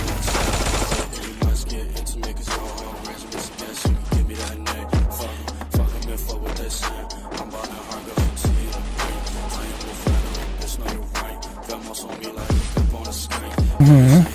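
Repeated explosions and gunfire from the Free Fire battle royale game, sharp booming blasts every second or two over a steady low game drone, loud and close with rapid shots between.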